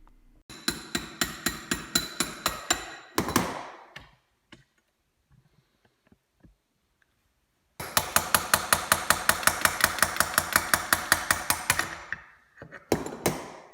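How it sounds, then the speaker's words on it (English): An impact wrench or ratchet rattles in two long rapid bursts with short hits between them as the propeller nut and bearing carrier bolts come off an Evinrude 9.9 HP outboard. The bursts are loud and close, with a quiet gap in the middle. "So now we're just going to take out the nut holding the propeller on and loosen and take out our 2 bolts holding the bearing carrier in."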